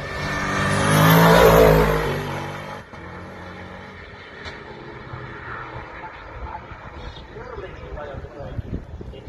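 An Audi S4 V8 twin-turbo hill-climb car of about 800 brake horsepower accelerating hard at Shelsley Walsh, a loud roaring surge for a couple of seconds that fades to a distant drone beneath a commentator's voice.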